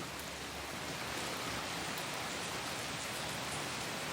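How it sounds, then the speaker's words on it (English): Steady rain falls on a Saturday afternoon in the Willamette Valley, a soft, even, continuous hiss with no breaks and no voices. "It's a rainy afternoon."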